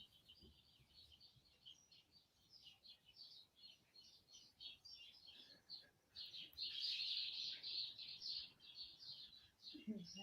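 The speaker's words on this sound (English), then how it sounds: "There's about 3 like sparrows in some kind of fight to the death." Roughly three sparrows squabble outdoors in the city, a rapid stream of high chirps heard faintly from a distance that swells into a louder burst midway, with low background noise beneath.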